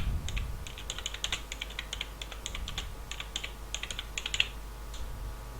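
Rapid, steady typing on a computer keyboard while a database query is entered, with close, crisp key clicks in quick irregular bursts and no voices.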